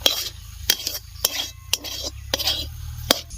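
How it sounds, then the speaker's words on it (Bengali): A spoon stirs a semolina mixture in a pan just after water is added: sharp, evenly spaced scraping strokes against the metal, about seven of them, over a soft background sizzle, close by and without talk. "এবার ভালো করে নাড়তে হবে নাহলে দলা থেকে যাবে"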